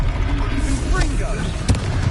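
A fiery Confringo spell explosion in Hogwarts Legacy, a dense rumbling boom with crackling bursts during a magical duel, heard under game noise and a spoken spell incantation.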